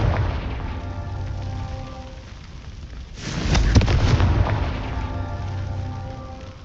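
A Confringo blasting spell goes off in the Hogwarts Legacy video game as one deep, rumbling explosion that swells midway through and then trails off over a steady game soundtrack, with no talking.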